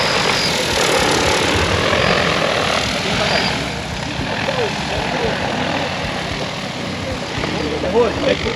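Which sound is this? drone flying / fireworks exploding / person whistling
drone flying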